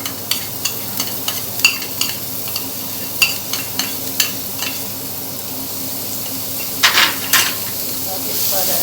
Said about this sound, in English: I am not going to add any oil in this, just adding the chopped onion.